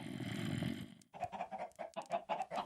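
Chickens in the Minecraft video game cluck in a quick series of short, close calls following a brief stretch of low background noise.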